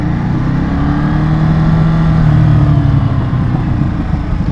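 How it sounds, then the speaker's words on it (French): A 2021 Ducati Monster with its stock Euro 5 exhaust, running with a steady throaty engine drone and a slight rise in revs, heard loud and close with no talk over it. "t'entends l'échappement stock, comment il pétarade"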